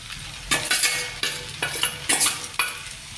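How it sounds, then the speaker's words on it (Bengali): Chow mein with vegetables and egg stirred in a pan at home, with repeated bursts of spatula scraping and tossing over a frying sizzle, about five rhythmic strokes, close and loud with no voices. "এরপর আমি ডিমটা মিশিয়ে নিব।"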